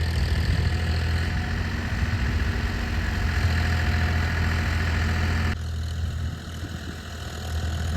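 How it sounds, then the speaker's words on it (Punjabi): A Holland 5620 tractor engine running while slipping in a wet field beside sugarcane gives a steady, loud, low rumbling drone that drops slightly in level partway through, with no talking. "ਦੇਖੋ ਗਿੱਲਾ ਕਿਸ ਤਰ੍ਹਾਂ ਸਲਿੱਪ ਮਾਰ ਰਿਹਾ ਟਰੈਕਟਰ"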